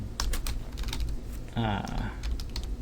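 Rapid keystrokes click on a computer keyboard in quick bursts, close and clear, while someone talks over the typing.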